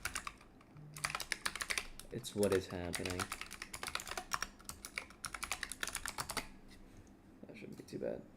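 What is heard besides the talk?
typing on a loud computer keyboard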